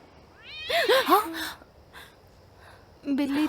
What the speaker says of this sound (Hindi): बिल्ली थी।